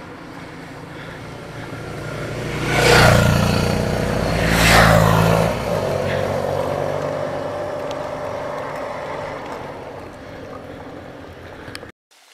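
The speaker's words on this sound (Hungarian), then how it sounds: "Egyre több az autó és a motoros." Cars and motorcycles pass on a road one after another, engine noise swelling and fading, over a steady background rumble.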